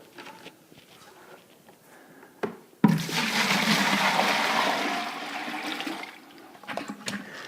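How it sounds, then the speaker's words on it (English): Water rushing into a bucket for a garden container setup, a sudden loud gush that holds steady for a few seconds, then tapers off into faint trickles and light clunks. "we want to fill this bucket with water"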